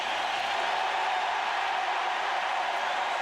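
A baseball stadium crowd at a 1998 St. Louis Cardinals vs. Chicago Cubs game roars steadily for Mark McGwire's curtain call, a dense, continuous wash of cheering with no break.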